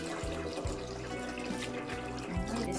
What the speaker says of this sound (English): I have to wash this dried seaweed.